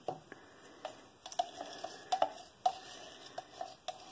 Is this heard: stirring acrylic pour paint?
yes